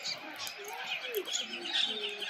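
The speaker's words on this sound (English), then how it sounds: "They're Major Mitchell cockatoos." Major Mitchell cockatoos calling at a bush camp in the Flinders Ranges of South Australia, a dense stream of harsh chirps and squawks overlapping continuously, fairly close.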